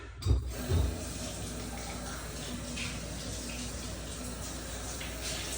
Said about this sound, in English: Rinse it out real good.